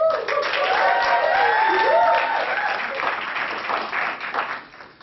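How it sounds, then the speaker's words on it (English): Audience applause for a speaker at a convention, a full sustained round of clapping with some voices mixed in, tapering off toward the end. "So give Dr. Shahin Pirzad a round of applause and your full attention."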